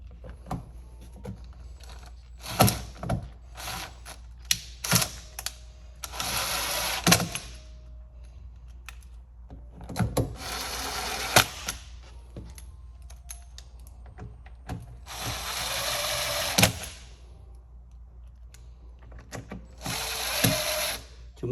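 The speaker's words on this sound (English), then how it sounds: "let's go ahead and put the screw back" Screw driven back into a Vsport seat during leather replacement, heard as repeated bursts of ratcheting and whirring driver action separated by quiet gaps and small handling clicks.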